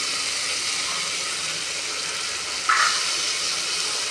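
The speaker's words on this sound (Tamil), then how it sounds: "காய் அள்ளி போடுறேன்." Chopped onions, carrots, beetroot and potatoes frying in a pan, giving a steady, close broadband sizzle with a brief louder hiss burst near the end and no talking.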